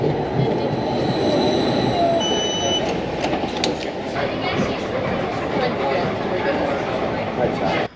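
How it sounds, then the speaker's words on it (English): Edinburgh tram ride back toward Edinburgh Park: a steady loud rumble of the tram running throughout, with a high wheel squeal or hum early on, heard from inside the car. "We're just about to jump back on the tram back to the hotel."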